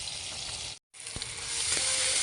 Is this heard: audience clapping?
no